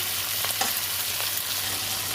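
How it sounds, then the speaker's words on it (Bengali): Onions and capsicum stir-fry in a hot pan with a steady, close sizzle, broken by a few soft scrapes as the pieces are tossed. "এখানে আমি দিয়ে দেবো ক্যাপসিকাম, ভালো করে নেড়ে নেবো"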